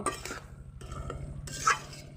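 A Malabar spinach and potato dish with a pinch of sugar stirred in a pot, soft scraping of a spoon with a few light metallic clinks over a low background hum.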